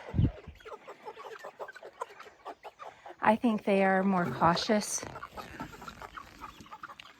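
Rhode Island Red pullets and other young hens clucking and calling in a chicken run, a close burst of loud, drawn-out squawking calls in the middle, with someone talking before and after.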